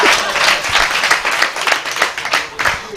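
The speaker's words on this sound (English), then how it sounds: "Clap for me." Audience clapping at a talk on the future of Africa, a quick burst of many hands, fairly close and loud, with some voices mixed in.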